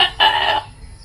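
A single short cluck from a chicken, close and fairly loud, lasting under half a second against a quiet background.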